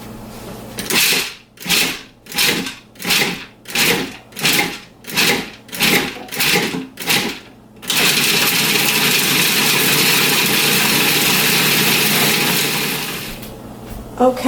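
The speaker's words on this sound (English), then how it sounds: "We're gonna start to blend this up or puree this." A kitchen blender purees pesto ingredients, first in about nine short loud pulses, then in a continuous roaring run that winds down near the end, close and with no talk.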